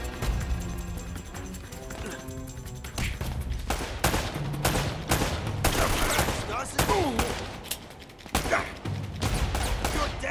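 Gunfire in Uncharted: Drake's Fortune, irregular bursts of shots and sharp impacts spread across the stretch with quieter gaps between volleys, backed by game effects.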